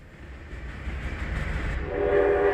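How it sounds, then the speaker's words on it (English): A train whistle sample used in the production of a folk-style song about a freight train, sounding as a sustained rail tone over low rumble and swelling louder near the end. "The train whistles back"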